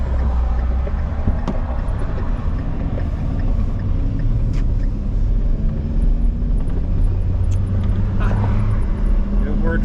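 A 6.7 engine freshly swapped into a Bronco runs at its first start, a steady low rumble and idle that holds close and continuous the whole time, with a voice talking briefly over it.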